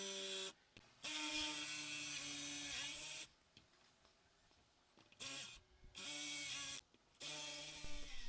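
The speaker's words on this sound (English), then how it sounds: "I'm going to drill a pilot hole with a 3/8 inch bit" A power drill bores a 3/8 inch pilot hole for a DIY car ramp jig, running in four loud whining bursts with steady harmonic pitch, separated by short quiet pauses.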